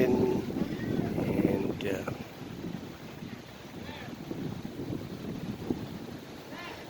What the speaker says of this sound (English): the sand is blown by the wind